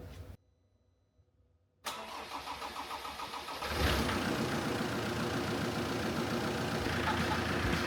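A Land Rover diesel engine fresh from an engine swap cranks after a short silence, then catches and settles into a loud, steady, rumbling idle nearby.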